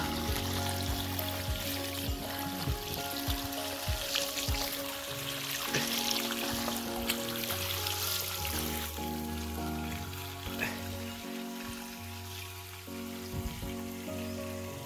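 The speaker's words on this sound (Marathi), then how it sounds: "बघा तिकडून पाणी आलेलं आहे आणि आता असं सरळ पाणी खाली जाईल" Irrigation water runs from a pipe into an areca nut and coconut plantation plot. A steady wash of flowing water continues through the whole stretch, mixed with other sustained tonal sounds.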